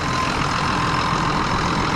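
A 7810 tractor engine idling in a field in Ohio, a steady, close mechanical rumble that holds an even level throughout with no voices.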